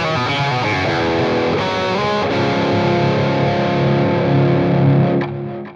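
A heavily distorted electric guitar chorus riff chugs and shifts through chords with a thick, saturated tone, loud and alone, then cuts off sharply near the end.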